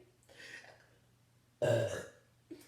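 Two loud, rough burps into a microphone, a long drawn-out one and a short one, with a quieter throaty noise before them, close up in a quiet room with no talking.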